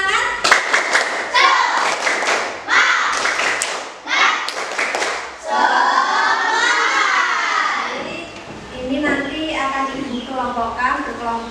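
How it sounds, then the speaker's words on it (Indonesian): A classroom group performs a rhythmic tepuk semangat spirit clap, crisp patterned hand claps close by, then voices chanting and talking together. "Tepuk semangat."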